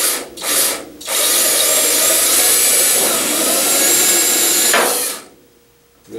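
A power drill bores a hole in a part for a cheap DIY vertical-axis wind turbine. A couple of short bursts come first, then one long, loud, steady whine for about four seconds. The motor winds down into silence, and no one speaks.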